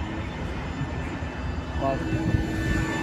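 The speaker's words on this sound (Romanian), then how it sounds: "decolează un avion. A, nu, aterizează, cred." An airliner landing at a Paris airport makes a steady, far-off jet roar that stays level throughout, with someone talking quietly over it.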